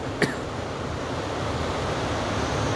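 Strong wind roars steadily through trees during a rainy spell, a broad rushing noise that builds slightly, with a brief knock near the start.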